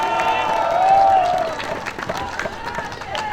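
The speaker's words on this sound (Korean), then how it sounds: "힘찬 박수 부탁드립니다." A crowd at an outdoor Democratic Party presidential election rally near Jamsil sports complex in Seoul claps and cheers, with a brief whistle-like tone early on and voices mixed into the noise.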